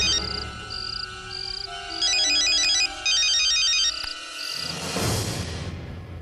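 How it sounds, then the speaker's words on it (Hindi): A phone ringtone plays loudly and close, a repeating electronic melody with bright beeping phrases that cuts off abruptly, followed by a brief rustle. "देखिए, दोबारा फोन किया है।"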